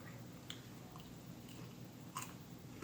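Bites into crunchy vegan fried chicken, with a few soft crunching and chewing sounds spaced out over quiet room tone, close and faint, no voices.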